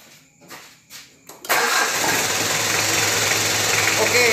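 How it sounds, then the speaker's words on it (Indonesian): A Mitsubishi Kuda diesel car engine cranks briefly in a few quick bursts, then fires up and settles into a loud, steady, rough idle that runs close by without any talk. "saya hidupkan mesinnya friend"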